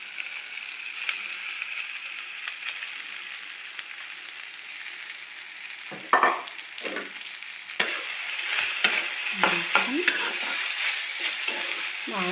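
Smashed idli being stirred into a hot tempering in a pan, with a steady sizzle throughout and repeated scraping, stirring strokes that grow busier and louder in the second half, close up with no speech.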